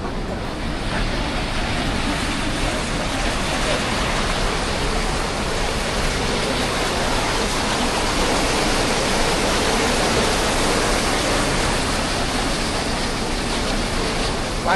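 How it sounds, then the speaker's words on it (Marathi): A large river rushes in full, heavy flow after dam water is released, met on a mountain trek from Sinhagad to Raigad; the loud, steady roar of water continues without a break. "पाण्याचा प्रवाह खूप मोठा आहे."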